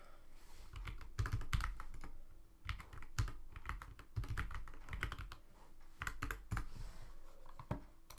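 Typing on a Corsair K70 computer keyboard, with bursts of fast, close key clicks and clacks in an uneven rhythm broken by short pauses.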